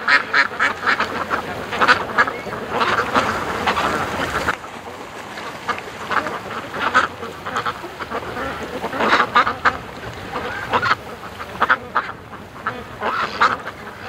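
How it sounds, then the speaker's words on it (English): Ducks quack repeatedly at a lakeside as they approach, the calls close and busy in bursts over steady outdoor noise with wind, no talk. "these ducks that are approaching me"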